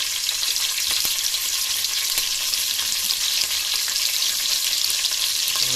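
Capsicum frying in a pan, a steady, dense sizzle running throughout with a few faint clicks, close and continuous with no voices.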